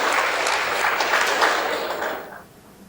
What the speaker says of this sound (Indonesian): Sekali lagi kita berikan tepuk tangan untuk semua.